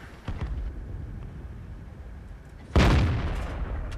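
A T26E4 Super Pershing tank gun fires in World of Tanks, a single loud, close boom with a sharp attack and a rumbling decay. Quieter battle rumble and a softer thud come before it.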